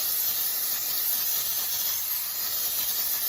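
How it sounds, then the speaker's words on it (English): Cooking oil sprayed onto the tops of chicken tacos in tortillas before air frying: a continuous close, even hiss of spray lasting a few seconds, with no talk. "now we're going to grease the tops of these"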